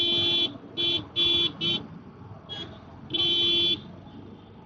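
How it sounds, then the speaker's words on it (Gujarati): Vehicle horn honking repeatedly in Ahmedabad city traffic, several short beeps followed by one longer blast, close and loud against a low traffic rumble. "હા, બહુ હોર્ન મારે."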